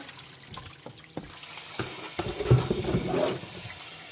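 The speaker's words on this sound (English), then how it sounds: "Now I'm just going to scoop some water out of that reservoir." Water sloshing and splashing as it is scooped up from a reservoir, with a few knocks and light drips, close by and moderately loud.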